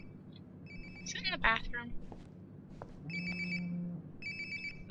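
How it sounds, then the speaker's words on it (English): A mobile phone rings in the video game Life Is Strange: Before The Storm, giving bursts of electronic trilling tones at moderate volume after a person speaks briefly. "Sounds like my phone is definitely nearby."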